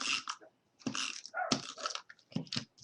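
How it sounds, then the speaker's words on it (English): A puppy indoors at a desk barks in several short, loud bursts with brief pauses between them, close to the listener and with no talking over it. "Oh, my puppy's decided that he wants to talk to us now, so he's starting to bark."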